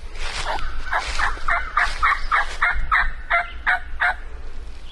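A wild turkey gobbling in the Georgia woods, a loud rapid series of about a dozen throaty gobble notes in one burst, fairly close and alone.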